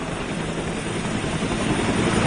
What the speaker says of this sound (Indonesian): Dan Anda bisa saksikan bersama-sama proses penurunan mereka dari helikopter.